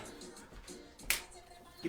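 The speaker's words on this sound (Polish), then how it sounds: "pstrykamy sobie lekko" A single light finger snap during solo dancing, one sharp crisp click standing out faintly against a quiet background, with a soft thump near the end.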